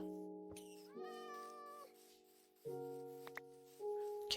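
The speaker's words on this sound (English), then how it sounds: "cat is killing rabbits" A cat in the Minecraft video game gives a few synthetic meows in a row, with clear tonal calls and short pauses between them, fairly faint and with no talk over them.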